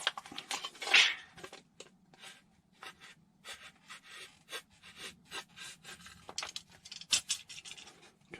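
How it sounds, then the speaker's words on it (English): Sandpaper rubs against a wooden part for a model gull wing, giving a rasping scrape that starts with one louder burst and then continues as short, irregular strokes, close by with no talking. "I need to do a bit of sanding because I've gone off the edge there"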